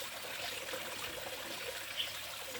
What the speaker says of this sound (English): we clean it, wash it with the running water